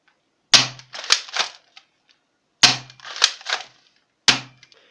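Shots from an MTS 225A toy air rifle: three sharp, loud cracks spaced about two seconds apart, each followed by quick mechanical clicks and rattles of cocking and reloading, with no talk.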